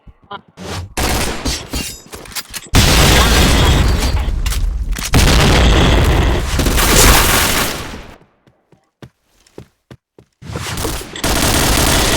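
Video game grenade blasts and heavy gunfire, loud and sustained broadband bursts for several seconds, then a quiet gap with a few sharp pops before another loud burst.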